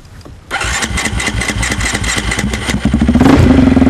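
A rally motorcycle at the 2006 Dakar fires up after being lifted out of sand, the engine catching abruptly and settling into a loud, close, chugging idle that rises toward the end.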